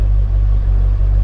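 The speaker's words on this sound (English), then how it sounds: "Go ahead and rev it up a little bit." A 2008 Callaway Supercharged 580 Corvette Roadster engine runs with a loud, steady low rumble, heard close and alone for a short moment.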